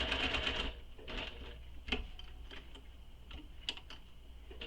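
A sewing machine stitches along the side of a handmade handbag, a steady mechanical whir with small ticking bursts, close and moderately loud, with no talk.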